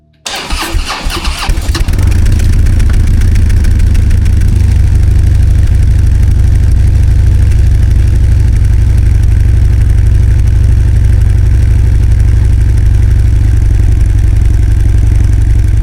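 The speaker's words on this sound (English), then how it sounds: "Let's get a cold start on a stock exhaust so we have something to compare to." A stock-exhaust 2014 Harley-Davidson Dyna Low Rider cold-starts with a brief cranking clatter, then settles into a loud, deep, steady lumpy idle that runs close and continuous to the end.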